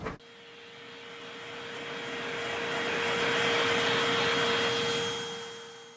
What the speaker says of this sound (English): And then all I do is vacuum.